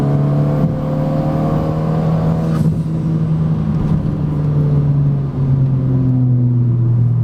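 Renault Megane RS RB8 project car pulling hard up a canyon road, a loud continuous engine note climbing through gears with a brief dip midway, heard from inside the cabin.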